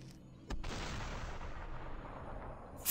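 A gun fires in the Superhot video game, a single sharp burst at the start followed by a sustained, loud rumbling wash of noise and a second blast right at the end, with no talking.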